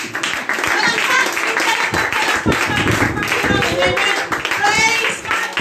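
Church congregation clapping in praise during a worship service, a dense wash of many hands under loud voices and shouting that carry on throughout.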